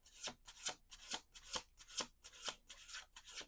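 Tarot cards shuffled by hand in quick, regular riffles, each crisp flutter separated by a short pause, about eight in a row, close and quiet with no voices.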